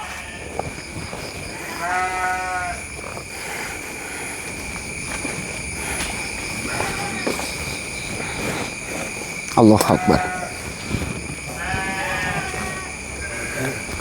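Several wavering goat bleats sound from somewhere outdoors at night, spaced apart across the recording, over a steady drone of insects, with someone speaking briefly.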